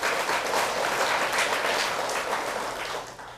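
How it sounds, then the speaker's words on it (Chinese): An audience at a Buddhist lecture claps in sustained, dense applause that stays strong before tapering slightly toward the end, with no talking. "对了请鼓掌。"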